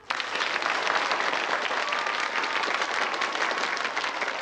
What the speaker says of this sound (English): A big round of applause for Gary Doyle.